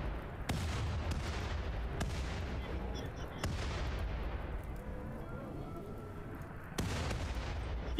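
Cannon fire in the RimWorld video game, with sharp booming shots at about 0.5, 1.7, 3.4 and 6.8 seconds standing out over a dense, continuous rumble of battle.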